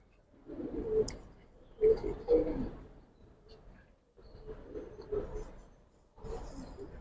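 Bagha pigeons coo nearby in low, throaty bursts, with several calls overlapping and short quiet gaps between them.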